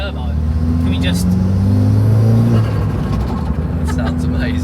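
A Renault Megane RS track car's turbocharged engine revs steadily with a droning low rumble that swells and then eases, close by, while people talk over it.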